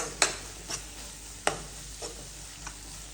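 Beef being stirred with salt in a pan: five or six distinct spatula scrapes spaced about half a second apart over a faint, quiet sizzle in the background.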